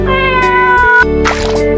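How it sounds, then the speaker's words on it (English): A domestic cat gives two loud, close meows in quick succession, each a drawn-out tonal call with no other sound. "The cat is a domestic species of small carnivorous mammal."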